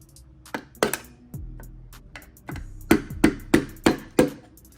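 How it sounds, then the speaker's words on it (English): Rubber mallet lightly tapping a flathead screwdriver against a rivet during an Audi 4.0T V8 engine teardown, a series of about eight sharp close knocks, the last several in a quick even rhythm. "I'm gonna get a flathead and rubber mallet and just lightly tap it."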